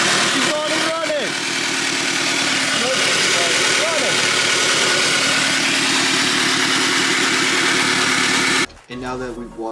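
A car engine idling steadily right after starting while smoking, with a loud, close mechanical drone. Voices talk over it before the engine cuts abruptly near the end.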